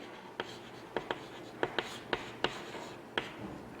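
A marker writing on a board during an English grammar lesson on participles. It makes a series of short, faint, squeaky strokes in an irregular rhythm, close by and heard on their own.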